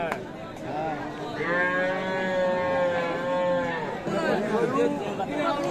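Cattle low and moo at a busy rural livestock market in Dinajpur, Bangladesh, where cows and young bulls are traded. A long, steady bellow stands out above continuous crowd chatter and nearby voices.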